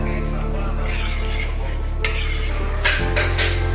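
Biryani rice gets stirred in a cooking pot, with soft scraping and a few light metallic clinks of a spoon against the pot over a steady low background hum.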